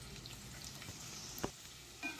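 Chopped onions hitting hot coconut oil in a pan give a steady soft sizzle, with a brief louder crackle or stir partway through and another near the end.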